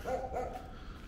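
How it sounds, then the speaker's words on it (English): A dog in a Buenos Aires neighborhood gives two quick, moderately loud barks close together near the start, followed by quieter street background. "that dog is quite excited that I'm here."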